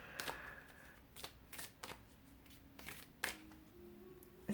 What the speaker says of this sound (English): Each deck wants to be shuffled a little bit differently, but these decks are pretty big.